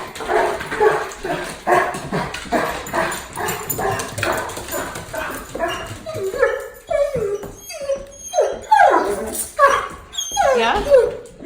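A pet dog whimpers and yips repeatedly, then lets out a run of louder, sharper barks and yelps, close by and excited, with little else around it.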